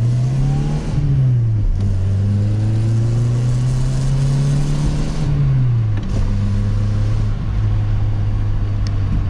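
A 1.6-litre Volkswagen Polo Mk3 engine drones steadily while driving, rising in pitch through each gear and dropping at the shifts, heard loud and close from inside the car with no talking.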